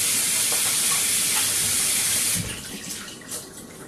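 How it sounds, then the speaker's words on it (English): A hand washed under a kitchen tap, with a loud steady hiss of running water that drops abruptly partway through to softer splashing and trickling, without talk. "wash my hand real quick."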